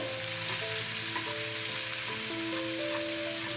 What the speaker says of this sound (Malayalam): നല്ലോണം ഒന്ന് വഴറ്റിയെടുക്കാം